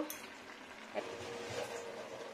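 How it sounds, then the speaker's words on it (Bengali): Potato and bitter gourd fry in a pan as they are stirred and mashed, a soft steady sizzle with a couple of faint scraping knocks, heard alone and fairly quiet. "এবারে নাড়া দিয়ে নেবো। একটু আলুটা স্ম্যাশ করে দেবো"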